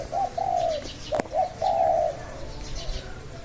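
Pigeons coo in soft, rolling phrases close by, with a brief sharp tap midway and a faint chirp, over a low background hum.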